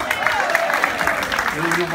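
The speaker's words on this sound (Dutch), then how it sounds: "mag je een warm applaus voor uw burgemeester" A crowd packed into a town square applauds its mayor. The clapping is dense and steady, and a loud voice and cheering carry over it from start to finish.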